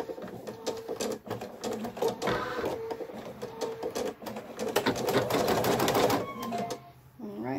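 A Viking Designer embroidery machine stitches a circle placement outline on minky fabric in a 180x130 magnetic hoop, giving a loud, close, fast mechanical rattle of needle strokes with a brief pause partway through.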